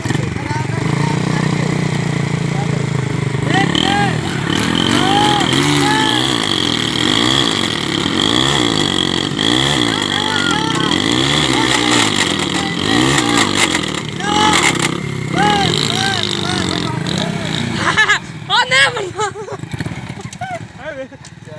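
A 19-model motorcycle strains against a 17-model bike in a motorcycle tug-of-war contest, its engine loud and close, revving up and down in repeated rising and falling surges before dropping to idle amid crowd noise.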